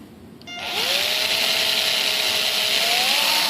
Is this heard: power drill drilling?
yes